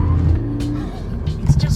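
A 2019 Toyota 86 sports car with a tight differential slides sideways through bends: a loud, close engine drone with some tyre noise, with a voice talking over it.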